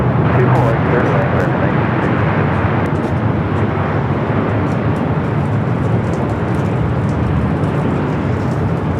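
A fixed-wing airliner lands on runway 24 right at LAX. Its engine roar is loud and steady across the whole stretch, with broad rumble and no quiet moments. Tower radio talk is faint under the noise.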